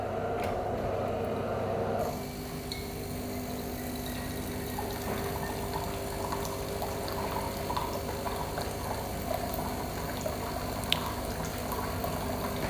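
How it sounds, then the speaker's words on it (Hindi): A DeLonghi Magnifica Evo coffee machine runs a fresh-water rinse during descaling, giving a steady bubbling, gurgling flow with a low pump hum that continues evenly throughout, alone without talk. "हमने इसमें जितना भी पानी डाला है ये सारा रिंस करेगा।"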